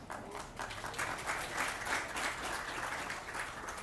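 A gathering applauds at an ambulance dedication, a short burst of moderately faint, steady clapping from a crowd in the room.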